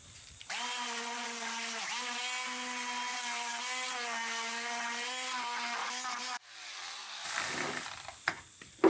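A square quarter-sheet orbital sander works over wood shelves, giving a steady whining motor hum with sanding buzz that dips briefly and then stops, followed by quieter handling noises.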